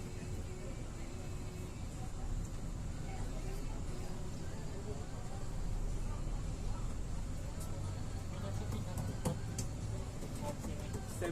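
A double-decker tour bus rolls through Jakarta near Gelora Bung Karno with its doors shut, a steady low engine rumble and cabin rattle running beneath ongoing talk.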